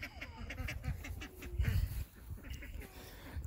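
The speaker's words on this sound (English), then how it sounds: "as you see over there, some of our ducks" Ducks on a small family homestead quack in a busy, overlapping chorus close by, with a few honking calls mixed in and a person talking faintly in the background.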